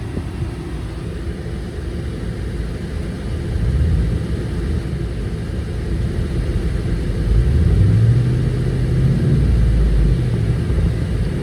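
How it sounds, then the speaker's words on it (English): A pickup truck engine idles with a steady low rumble, then revs up twice, the pitch rising and falling, heard close and fairly loud with no talking. "Rev it up a little bit"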